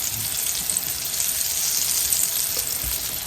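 Pieces of squirrel meat fry in a pan with a loud, steady, bright sizzle and hiss that holds evenly throughout, close up, with a faint thump or two underneath and no talking.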